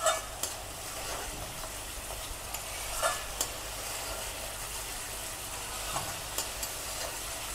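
A spiced eggplant kofta mixture sautés quietly in a pan, a soft, constant sizzle with occasional scrapes and knocks of stirring. The sound is fairly faint and there is no talking.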